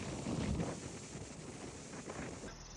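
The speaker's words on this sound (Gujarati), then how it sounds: "બહુ પવન આવતો હતો" Strong wind buffets the microphone outdoors on a walk past open greenery, a steady rumbling gust that swells near the start and continues without a break, close and moderately loud.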